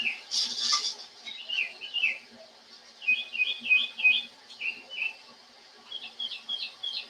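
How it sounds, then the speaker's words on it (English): Birds sing outdoors in short bright chirping phrases and twittering trills, repeated in bursts across the clip, moderately close and fairly clear over a quiet background. "the birds are absolutely making sweet music"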